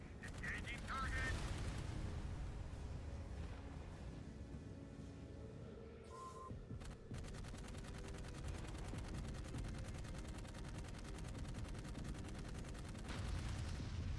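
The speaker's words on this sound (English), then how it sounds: "Aircraft" Aircraft guns blaze in the sci-fi shooter game Dark Void, a dense, continuous rattle of rapid gunfire with heavy low rumble lasting the whole stretch, layered under game effects and occasional voice.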